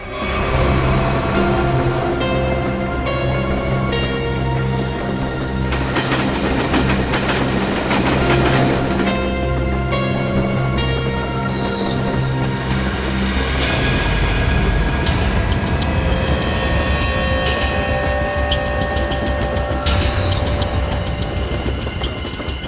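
A moving train rumbles steadily and loudly throughout, with a continuous low drone, faint rhythmic rail clatter and tonal whines rising over it; no clear voices stand out.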